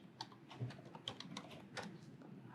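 Quiet, irregular clicks of fingers typing on a computer keyboard, a short burst of keystrokes with uneven rhythm and no talking.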